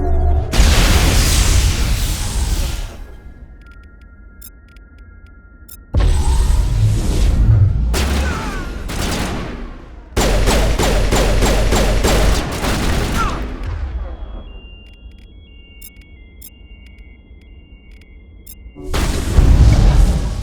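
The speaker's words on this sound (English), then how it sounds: "Open fire. Open fire!" A firefight in the sci-fi shooter Mass Effect erupts in loud bursts of rapid automatic weapon fire and booming shots, coming in several separate volleys with quieter gaps between them.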